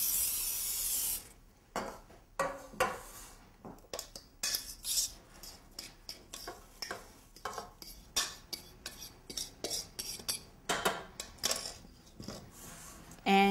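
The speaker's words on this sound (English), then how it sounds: "I'm going to give my pan a quick little spray" Cooking spray hisses onto a cheesecake pan in a sharp burst at the start, followed by a long series of light clinks and metallic scrapes of utensils against the pan, close and fairly quiet.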